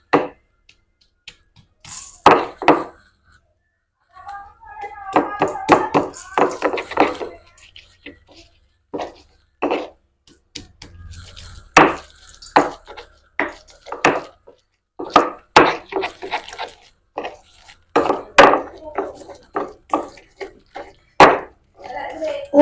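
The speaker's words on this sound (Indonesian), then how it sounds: "Oke, sekarang kita ulek ya bumbunya." A stone mortar and pestle grind spice paste for sambal terasi in irregular bursts of scraping and knocking, loud and near, with short pauses between strokes.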